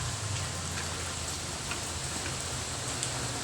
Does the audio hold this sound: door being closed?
no